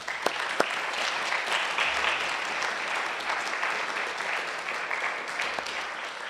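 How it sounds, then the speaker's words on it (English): An audience at a security conference in Berlin applauds, with steady, moderately loud clapping and a few sharper individual claps standing out early on. "let's thank those of the Friedrich Ebert Stiftung and my colleagues in the Secretariat with a round of applause"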